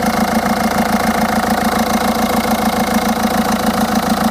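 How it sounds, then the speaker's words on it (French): A Peugeot 207 1.6 HDI diesel engine idling, a steady close-up rumble with a regular pulsing beat and audible vibration, running continuously with no speech. "je vais quand même vous montrer les vibrations de mon moteur."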